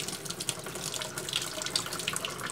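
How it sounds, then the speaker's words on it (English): Hot water runs steadily from an RV sink tap fed by a newly fitted Girard tankless water heater, making a continuous close splashing rush with no talk. "I'm going to hit the hot at the sink."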